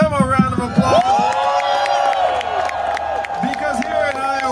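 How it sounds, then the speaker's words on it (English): Rally crowd in Iowa cheering, whooping and clapping over music with harmonic tones throughout, dense and steady, with shouts rising near the start. "Let's give them a round of applause."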